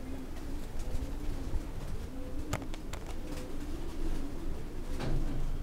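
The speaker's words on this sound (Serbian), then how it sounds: "Lepi golubi." Pigeons coo in a loft, soft repeated low coos close by with a few sharp clicks and wing or cage knocks.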